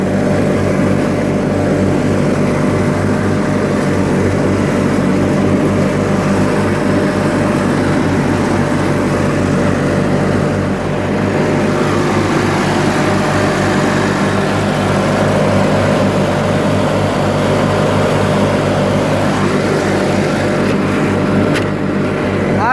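A 1986 John Deere 318 lawn tractor mows steadily, its engine holding a constant, loud drone with grassy rumble and no pauses throughout.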